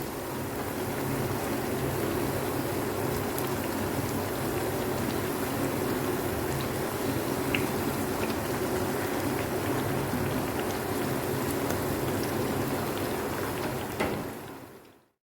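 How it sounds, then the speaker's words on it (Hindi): Bread slices frying in hot oil for shahi tukray, a steady dense crackling sizzle like rain, loud and continuous throughout with no talking, cutting off at the very end. "अब इसमें मैं ब्रेड डाल दूँगी और ब्रेड को हमने दोनों तरफ से गोल्डन ब्राउन फ्राई करना है।"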